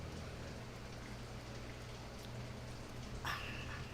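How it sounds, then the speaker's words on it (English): Steady rain falling, a dense continuous patter heard faintly and evenly throughout, with a brief brighter sound near the end and no talking. "Miles said it's raining right It's now"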